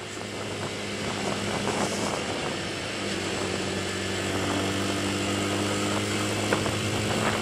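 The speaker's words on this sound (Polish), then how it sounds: "Ale dużo fanu daje naprawdę ten odgłos, gdy dodajemy gazu, takie mruczenie." A Romet RCR 125 motorcycle engine purrs under throttle, a steady buzzing drone that rises slightly in pitch as gas is added, continuous and fairly close with no talk.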